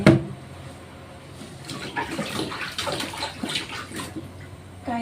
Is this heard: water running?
yes